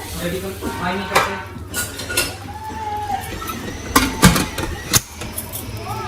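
Metal clinks and knocks of a Fissler pressure cooker being handled and its lid closed while cooking chicken curry, a few sharp clanks standing out near the end amid low background noise.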